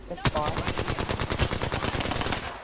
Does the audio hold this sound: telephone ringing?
no